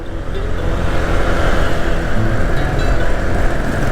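A Honda PCX 160 ABS scooter accelerating to overtake on a road in Rizal, a loud, close engine drone rising slightly in strength over a few seconds, mixed with rushing wind.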